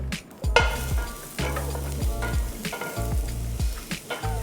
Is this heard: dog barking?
no